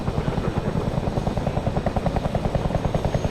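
Helicopter in a video game about an airborne division platoon, a loud, steady rotor thump with a fast even beat and a whining engine drone running nonstop at close range.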